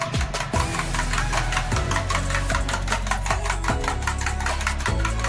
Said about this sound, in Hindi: मैं इसे स्क्रम्बल कर दूँगी अच्छी तरह से फेंट के, ताकि नमक भी मिक्स हो जाए।